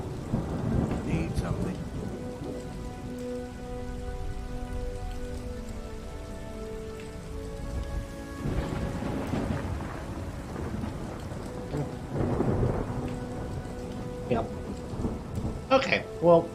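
Steady rain and rolling thunder in the video game Skyrim, a constant patter of rain with low rumbles of thunder building and fading a few times, with faint game sounds and no voices.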